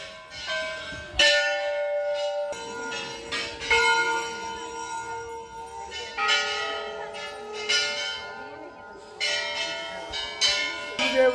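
Several temple bells ring out repeatedly at Golu Devta temple, Ghorakhal, with overlapping metallic strikes and long ringing tails, loud and close, in an irregular rhythm.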